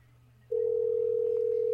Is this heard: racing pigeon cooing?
no